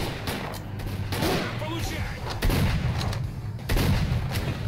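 Shotgun fire in the video game S.T.A.L.K.E.R. Clear Sky: several loud, sharp blasts in quick irregular succession, booming up close with heavy low-end thuds, while a person talks over the gunfight.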